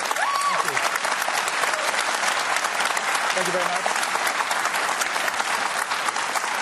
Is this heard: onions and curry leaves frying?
no